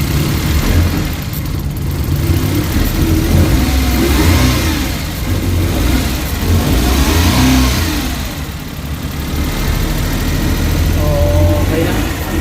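A Suzuki K6A engine from a DA63 truck, freshly overhauled, fires up from cold and runs steadily with a loud, continuous mid-range drone and slight revving swells, while a voice talks over it throughout.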